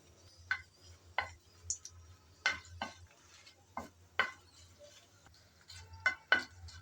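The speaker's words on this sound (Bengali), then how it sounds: "এখন নেড়েচেড়ে মরিচ ভালোভাবে ভেজে নেব, যেন ভিতরের বিচি শুদ্ধ ভালোভাবে ভাজা হয়" Dried red chillies stirred and fried in oil, heard as a series of sharp, close scraping and clinking strokes at irregular intervals, with only a faint sizzle and a low hum underneath.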